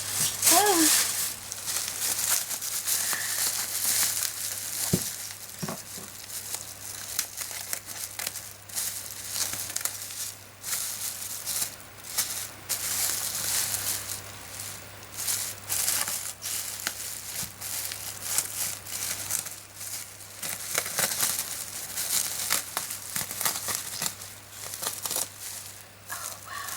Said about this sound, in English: I'm going to unwrap it again.